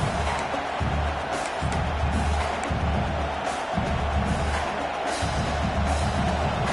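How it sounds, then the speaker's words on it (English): A large stadium crowd roars at a USC college football game, a broad continuous wash of cheering and whoops with bursts of louder noise, heard from a distance and filling the whole span. "Listen to the crowd energy here in the early going"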